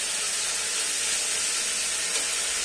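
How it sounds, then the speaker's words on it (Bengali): Vegetables for chira polao frying in a pan while being stirred, a close, loud, even hissing sizzle that holds steady without pause. "এইভাবে দিয়ে নাড়তে থাকছি যতক্ষণ না সব সবজিগুলো ফ্রাই হয়ে যাচ্ছে"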